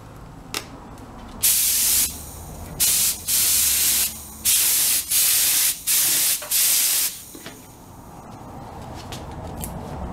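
A spray gun lays a thick coat of wrinkle finish paint onto steel in about six close, loud hissing bursts, each lasting a second or so, with short pauses between them and no talking.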